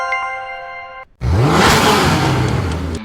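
A Koenigsegg Regera engine revs hard after a brief tone, a loud close roar that climbs and holds for a couple of seconds before easing slightly.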